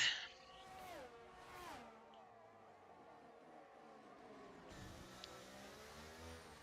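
A McLaren Formula racing car engine in an F3 race at Abu Dhabi in a racing video game, revving and shifting through gears with whining pitch sweeps, a second car's engine passing nearby, steady and moderately loud.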